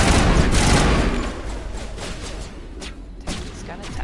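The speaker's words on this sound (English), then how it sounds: "Take this gun attack." Dense gunfire in the video game Mass Effect, a rapid rattling barrage that starts loud and eases slightly, with sharp cracks and thumps breaking through a continuous roar of combat.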